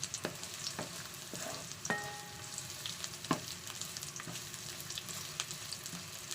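Onions sauté in a pan for a smoked fish recipe, giving a soft, steady sizzle with occasional sharp clicks and scrapes from stirring, heard alone without talk.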